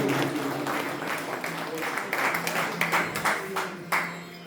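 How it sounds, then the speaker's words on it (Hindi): Audience at a Punjabi poetry gathering claps together for the team, a busy patter of applause mixed with voices and background murmur, moderately loud. "इस सारी टीम वास्ते एक बार तालियां मारो"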